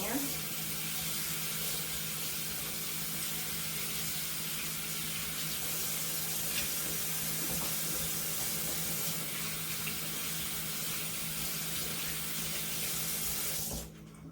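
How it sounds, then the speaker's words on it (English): Kitchen tap runs in a steady, loud stream for the whole stretch while hands are washed at the sink between cooking steps for oven-fried baby back ribs, stopping abruptly at the end. "I'm going to wash my hands again."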